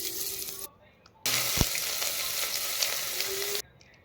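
Whole garam masala spices sizzle in hot ghee inside a pressure cooker, a steady close frying hiss that breaks off briefly and then resumes for a few seconds.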